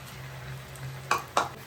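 Flour-coated potato chips fry in hot oil over a high flame, a soft continuous sizzle punctuated by two sharp, close clatters in quick succession.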